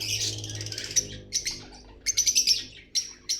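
Albino lovebirds, a breeder pair in cages, give close, shrill chirps and squawks in quick irregular bursts over a low background hum.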